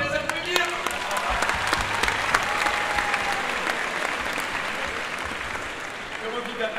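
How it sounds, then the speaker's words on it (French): A large audience applauds award winners at a prize ceremony in a grand Paris cinema hall, sustained dense clapping with scattered cheers holding steady throughout, a voice briefly audible beneath. "Bravo, on peut les applaudir!"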